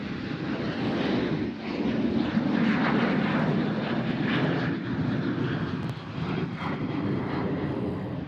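An airplane takes off from Nashville International Airport, its jet engines producing a loud, sustained broadband roar that holds steady and then slowly eases as it climbs away.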